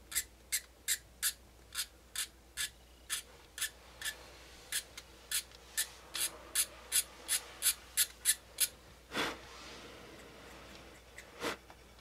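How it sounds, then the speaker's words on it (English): Hobby blade scraping the plastic body of a Tamiya 1:24 Nissan Silvia model kit in quick short strokes, a close, faint series of about twenty rhythmic scratches followed by a couple of slower, softer passes, with no talk. "just using a hobby blade and then just doing small little strokes"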